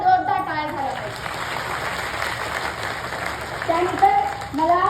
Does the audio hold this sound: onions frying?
no